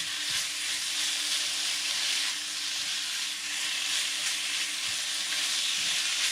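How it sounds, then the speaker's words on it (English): Chicken pieces sear in a hot pan for a chicken curry, giving a loud, steady frying sizzle with bright hiss and occasional stirring knocks throughout, no voices. "The idea is to quickly seal the chicken."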